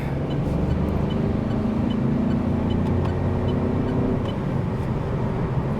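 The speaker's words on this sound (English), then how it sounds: "Let's try and overtake a tractor in 3rd gear." A Citroen C3 with a 1.2 petrol engine pulls hard in third gear to overtake a tractor, giving a steady rising engine drone heard from inside the cabin at moderate loudness.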